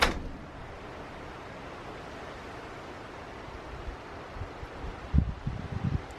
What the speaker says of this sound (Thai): ลมมันจะแรงนิดนึง